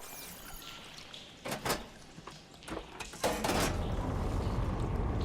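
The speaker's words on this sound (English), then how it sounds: "Sounds like the water's switched." Mechanical clunks and creaking bursts from water valve machinery in Horizon Forbidden West, then a steady rushing flow of water kicks in and continues.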